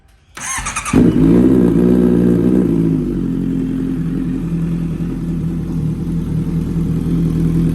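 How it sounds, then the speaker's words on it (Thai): A 2014 Honda CBR650F, converted from a CB and fitted with carbon parts and a loud aftermarket exhaust, cranks with a short starter whir, fires up with a burst, then settles into a steady, loud, close-up burbling idle. "เดี๋ยวสตาร์ทให้ฟังนะครับ"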